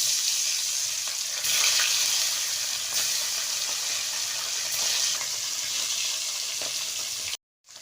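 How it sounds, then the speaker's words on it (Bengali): Tilapia fish fry in hot oil in a wok, a steady, bright sizzle with occasional crackles and pops, ending abruptly with a brief silence. "তেলটা গরম হয়ে গেছে, এবার মাছগুলো ভেজে নেব।"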